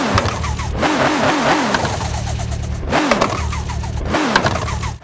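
BMW engine in the Car Parking Multiplayer driving game, a steady mid-pitched drone that swells into repeated revs, rising and falling three times over a continuous loud hum with no talk.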